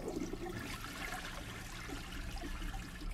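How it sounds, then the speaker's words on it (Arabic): A toilet flushes in a horror video game, a steady rushing gush of water with gurgling trickle filling the whole short stretch at close range, no voices. "شد سيفون على نفسه ولا ايه"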